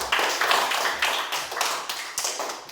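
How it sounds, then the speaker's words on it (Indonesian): A classroom of students claps together, with quick, irregular bursts of hand claps that stay close and fairly loud for several seconds and carry no speech. "Tepuk tangan untuk kita semua."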